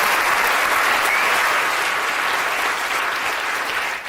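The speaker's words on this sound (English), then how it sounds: "I think we need to give a big round of applause to Professor Eric Hayes." Dense, steady applause from an audience at a chemistry lecture, filling the room continuously at a strong level before tapering at the end.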